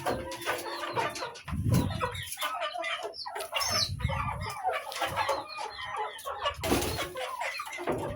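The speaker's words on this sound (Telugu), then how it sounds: "ఇదే మన పుంజు" Chickens cluck and chatter continuously close by on a poultry breeding farm, with a rooster's deeper calls rising a few times over the busy flock.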